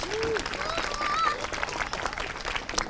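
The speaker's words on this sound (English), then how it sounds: "So give yourself a big round of applause." Crowd applause at a township Ramadan lighting ceremony: steady clapping from many people throughout, with a voice talking briefly over it.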